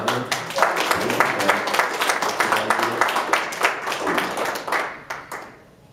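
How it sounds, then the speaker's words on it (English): A church congregation claps together at a Sunday family service, a dense run of many hands that holds steady for about five seconds before thinning and stopping. "We can clap."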